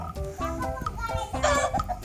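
Chickens cluck close by while being fed in a village yard, with busy, overlapping clucks and a voice mixed in.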